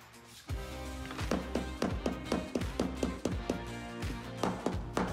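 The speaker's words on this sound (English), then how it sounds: "I'm using a DoDa without the tip on to reshape the bottom of the wing" A DoDa tool without its tip reshaping the bottom of a dented car wing panel, giving a series of sharp metallic taps in an uneven steady rhythm, close and alone.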